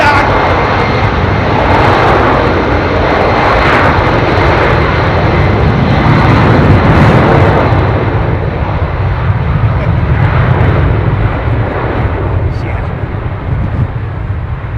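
Large airliner at London Heathrow Airport, a loud continuous engine roar and rumble holding steady throughout, close and dominant, with no clear talking.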